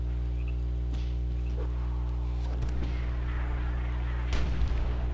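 Dwarven Mortar artillery firing in a video game match, with a few sharp booming shots over a steady electronic hum.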